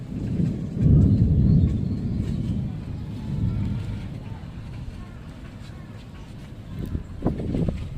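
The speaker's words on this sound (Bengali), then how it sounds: "এবং কি বিদ্যুৎ চমকাচ্ছে, বৃষ্টি ডাকতেছে।" Low, rolling thunder rumbles on and off beneath heavy cloud and lightning in Keraniganj before a storm, a steady deep roar that swells near the start and fades unevenly, with a few soft knocks near the end.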